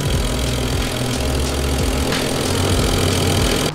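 A turbocharged BMW E46 drift build idles, its engine giving a steady low, slightly uneven rumble with a busy mechanical layer close by, continuous for a few seconds with no talking.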